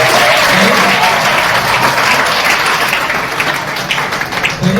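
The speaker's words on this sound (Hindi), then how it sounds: "एक बार जोरदार तालियां हो जाए" Loud, dense applause from an audience of students at a talk on values, sustained clapping close and full at first, then thinning and fading slightly toward the end.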